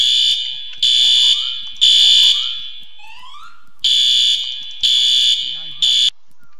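A fire alarm in a Roblox video game blares in loud, repeated electronic horn blasts, each burst separated by short pauses, sounding close and alone.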